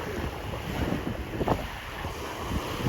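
A boat moves across open water in strong wind, with gusty wind buffeting and a broad wash of waves and surf throughout, fairly loud and continuous.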